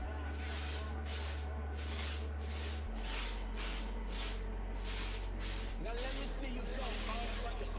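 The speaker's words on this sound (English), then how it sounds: "just take some hairspray and spray it all around" Hairspray misted all around styled men's hair in a spiral center part, a series of short close hissing bursts in quick rhythmic succession.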